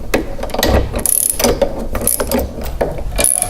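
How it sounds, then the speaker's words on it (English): A 3/4 inch ratcheting wrench tightens bolts on a Husqvarna 7021P CheckMate mower striping kit, giving loud, close bursts of quick metallic clicks in repeated strokes, with no talking. "we're going to take our 3/4 inch wrench and tighten down the bolts"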